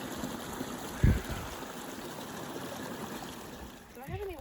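Glacier-fed mountain stream flowing along a hiking trail in Oregon, a steady broadband rush close by, with a brief thump early and a faint voice-like sound near the end.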